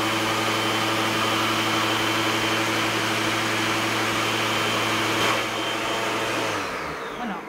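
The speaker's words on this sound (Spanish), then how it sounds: "aproximadamente un minuto para moler el café" A Cecotec Mambo kitchen robot grinding coffee beans at high speed, a steady loud motor whine with a constant hum that runs throughout, then fades slightly as it winds down near the end.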